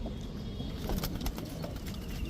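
Giribaz high-flyer pigeons, crested Gorra birds, cooing softly in a loft, a steady low murmur of bird calls without talk.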